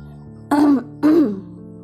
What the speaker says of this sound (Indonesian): Raya berdehem keras dari arah kamar.